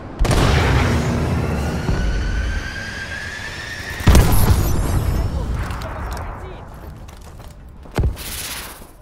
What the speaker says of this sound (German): Verbündeter Raketenschlag nähert sich!